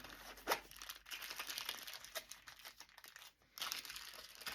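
Crinkly plastic packaging rustles and crackles steadily as it is pulled out of bags by hand, a close, continuous crumpling with brief louder bursts near the start and end.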